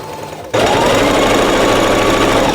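After a brief quiet moment, a sewing machine starts and runs steadily with a fast, even mechanical whir and rapid needle stitching, ruffling fabric, loud and close.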